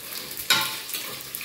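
Dried red chilies hitting hot tempering oil for a Rayalaseema-style fenugreek dal, a sudden loud sizzle that bursts up then settles into a steady crackling hiss, close and without talk.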